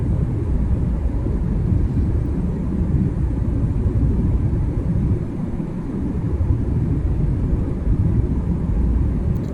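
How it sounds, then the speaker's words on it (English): Broad, steady low rumble of an airliner cabin during descent toward Seattle airport, engine and airflow noise droning continuously and fairly loud with no voices. "Here we are getting closer to the airport. We're dropping in altitude,"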